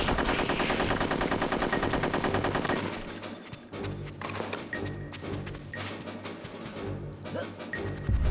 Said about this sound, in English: Oh, I do have my machine guns back.